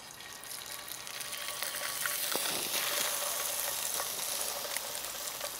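A mangrove snapper fillet sizzling and frying in a hot pan, a steady, loud crackling hiss that holds throughout with no talk over it.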